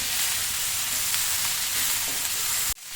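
Onions sauté in a pan for a Kerala-style chicken pollichathu, a loud steady sizzle and frying hiss with faint stirring scrapes that cuts off abruptly near the end.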